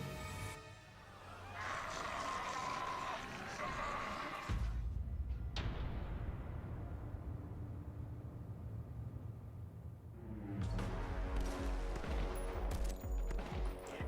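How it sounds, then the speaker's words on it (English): Staged gunfire effects in a music video drama, a burst of rapid shots and noise followed by a long decaying boom and then more dense rumbling, heard over music. "the gun firing effects are a bit bad"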